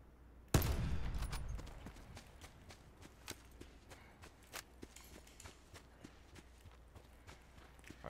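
In Black Ops 4 Blackout, a single loud gunshot cracks out early, followed by a run of quieter, evenly spaced footstep-like taps.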